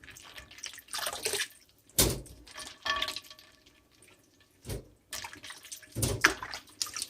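Water from freshly boiled sweet corn drains and splashes in short bursts, with several separate pours and trickles between quieter pauses, close and fairly loud with no voices.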